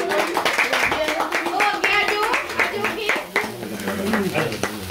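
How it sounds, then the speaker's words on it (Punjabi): Guests clapping together at a two-person birthday celebration in a house in Spain, uneven rhythmic claps under chatter and a voice, close and lively. "ਤਾੜੀਆਂ ਮਾਰੋ ਜੀ ਸਾਰੇ"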